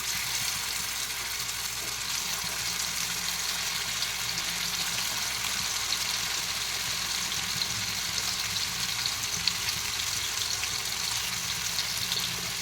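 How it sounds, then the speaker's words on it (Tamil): Fish frying in oil on a tawa, a steady close sizzle and crackle that holds evenly throughout without pause. "இப்போ மீன் வந்து ஒன்று ஒன்றா எடுத்து தவாவில் வச்சுக்கலாம்"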